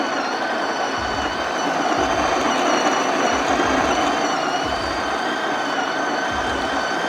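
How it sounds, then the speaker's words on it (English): A Philips Barista Brew espresso machine's built-in grinder runs hands-free, giving a steady, loud mechanical whir with a low rhythmic throb pulsing beneath it, continuous from start to finish with no talking. "you don't have to hold the portafilter while grinding. It's hands-free grinding"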